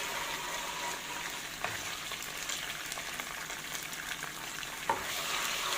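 Chopped garlic sizzling in a pan with a spoonful of tomato sauce, stirred steadily: a soft, continuous frying hiss with occasional faint scrapes of the utensil, heard alone.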